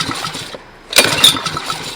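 A Honda GC160 small generator engine being cranked to start, with a quiet pause then a short burst of pull-cord cranking and sputtering engine noise, close and loud.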